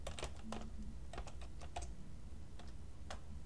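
Quick, light typing on a computer keyboard, a close, quiet burst of irregular key clicks with short pauses between groups of strokes.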